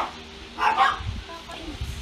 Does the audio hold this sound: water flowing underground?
no